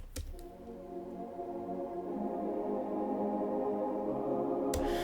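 Dark ambient drone pad from a Logic Pro Alchemy synth patch, a sustained, slowly swelling wash of tones that grows louder over a few seconds, with a brief click at the start and end.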